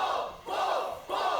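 Wrestling crowd at an extreme wrestling show in Atlanta chants loudly in rhythmic bursts, the massed voices swelling, dipping briefly, then surging again with no clear talk over them.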